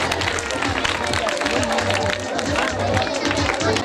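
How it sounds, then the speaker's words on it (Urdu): An audience applauds a prize winner at a school awards event, a dense steady patter of many hands clapping throughout, mixed with crowd murmur. "بھائی ان کے لیے تالیاں بھی لگائیں۔"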